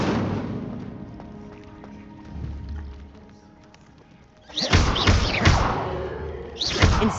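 An Incendio fire spell cast in the video game Hogwarts Legacy: a low rumble builds, then a burst of crackling, whooshing bursts erupts loudly, fading and flaring again.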